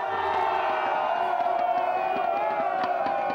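Thai football fans roar, cheer and shout together in a sustained crowd din, a continuous loud wall of voices with whoops rising through it.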